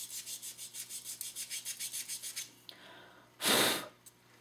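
A resin model part is sanded by hand in a dozen quick, even rubbing strokes, close and fairly quiet, followed after a short pause by a louder breathy puff of air.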